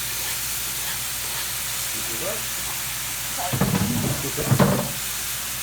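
Onion and garlic mix tipped into a pan of browned hamburger meat, giving a steady background sizzle that swells into louder bursts of frying and stirring near the end, with a brief spoken word.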